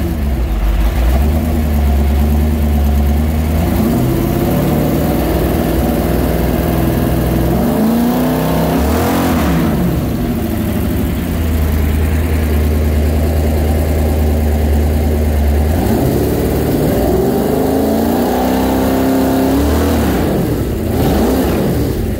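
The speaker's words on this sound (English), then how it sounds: "I'll fire it up again." A 450 hp 350 Chevrolet V8 with a roller cam, bound for a 1970 K20, runs at a lumpy idle with two strong revs rising and falling, loud and close throughout.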